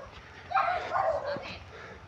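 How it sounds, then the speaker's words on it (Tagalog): A dog barks a few times at a moderate distance, with steady background noise throughout. "may aso"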